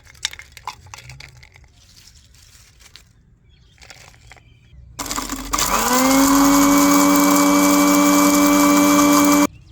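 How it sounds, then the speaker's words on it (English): An electric mixer grinder crushing crispy, sun-dried fruit peels into fine powder starts up loud and steady with a whining motor drone partway through, after a few seconds of quieter handling sounds. "put them in a mixer grinder and crush them into a fine powder"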